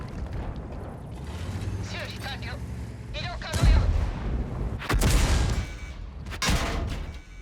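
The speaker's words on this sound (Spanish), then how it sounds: "Oh, la artillería disparó." Artillery fire in the tank game World of Tanks: a few heavy booming blasts over a continuous rumbling battle background, with brief voice sounds in between.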